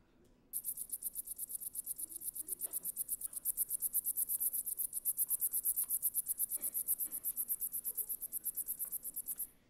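A katydid gives a loud, steady rhythmic chugging call like a far-off steam engine, with evenly spaced high-pitched pulses repeating for several seconds against a quiet outdoor background.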